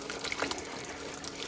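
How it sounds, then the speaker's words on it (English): Liquid splashes and trickles into a pan during home cooking, a steady, moderately quiet watery patter with a few brief louder splashes. "Oh, it's splashing."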